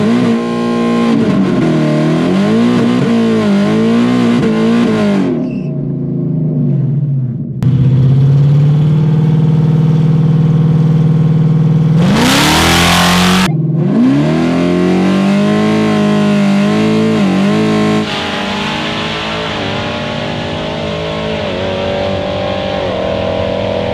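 A 2024 Ford Mustang running E85 fuel launches and accelerates hard down a drag strip, its engine revving loud and close through rising gear pulls and shifts, with a brief burst of hiss in the middle of the run.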